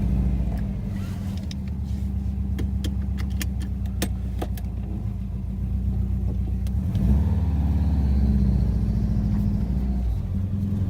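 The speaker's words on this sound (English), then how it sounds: "You still get that flat 4 rumble." A Subaru WRX Blobeye with a flat-4 engine and a newly fitted exhaust rumbles steadily at low pitch from inside the car, with some clicks and rattles. The engine swells louder as the car pulls away.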